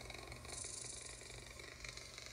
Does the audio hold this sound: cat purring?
yes